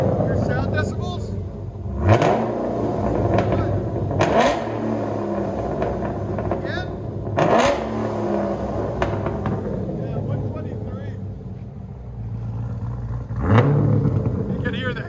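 A cammed Pontiac G8 with a 6.0L V8, long tube headers and no mufflers revs in loud, sharp bursts roughly every few seconds over a rumbling idle, close by, with people talking throughout.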